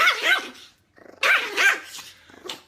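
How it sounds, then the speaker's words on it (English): A tiny, vocal neighbour's dog barks in two sharp, loud bursts with a low growl between them, close by and with no talking. "My neighbor has this really vocally expressive dog."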